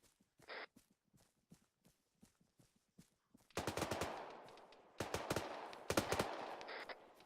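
Gunfire in Arma 3, starting as scattered sharp single shots, then bursting into loud rapid automatic volleys in several clusters, close and punchy.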